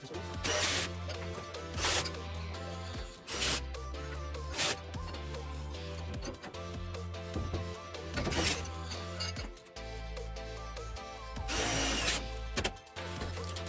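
A power drill drives screws into sheet metal while a four-piece fitting is assembled. Repeated short whirring bursts rise and stop, each ending with a sharp metallic bite. The bursts are close and loud, separated by clanks and handling noise.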